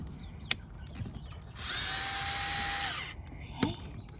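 A power drill whirs steadily for about a second and a half while driving a screw during a chicken door installation, with scattered small handling clicks and knocks before and after.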